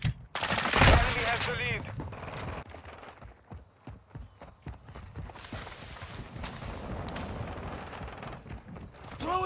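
Gunfire in the action film Shooter: a sharp, loud burst early on, followed by scattered, quieter shots and crackling under an ongoing firefight.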